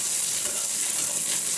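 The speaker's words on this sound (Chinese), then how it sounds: "把肉片炒熟，炒出油" Pork slices stir-fry in a hot wok with oil, a dense, continuous hiss of sizzling that stays loud and close and steady throughout, with no voices.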